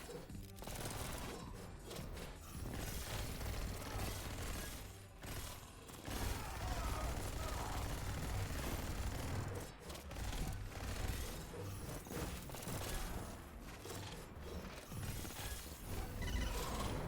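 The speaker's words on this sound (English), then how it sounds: "Using the Godspeed gun to snipe the targets from quite far away." Rapid gunfire from the Godspeed gun in the video game Neon White, a dense, continuous barrage of shots and mechanical clatter, loud and steady throughout with brief dips.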